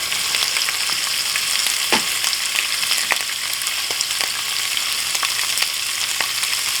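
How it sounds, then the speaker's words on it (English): Shrimp frying in olive oil in a pan, a steady loud sizzle and crackle that runs unbroken throughout, with a few faint clicks of handling over the top. "Go ahead and put some olive oil down in the pan. Get our shrimp in the pan."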